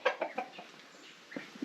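Several short, quiet clucks from chickens nearby, in a loose scattered rhythm with brief pauses between them.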